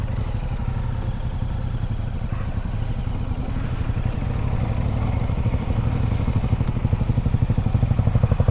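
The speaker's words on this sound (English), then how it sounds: "I'm killing the bike like 8 million times" A motorcycle being ridden slowly in a field for low-speed turn practice chugs with a low, rough engine thrum that grows into a faster pulsing putter toward the end, close and loud with no talk.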